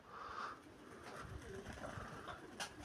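Pigeons coo softly in an evening outdoor setting: faint, low, rolling calls repeat against a quiet background hiss, heard from a little distance with no clear talking.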